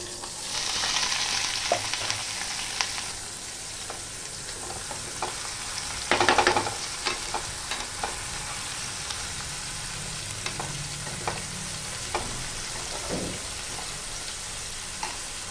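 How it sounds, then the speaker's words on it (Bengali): Chopped onion drops into hot oil already holding bay leaf, dried red chilli and whole cumin for a hilsa fish head and taro curry, sizzling with a steady hiss, a louder crackling burst midway and scattered spatula clicks, close and without speech. "এবার দিয়ে দেবো আমি পেঁয়াজ কুচি"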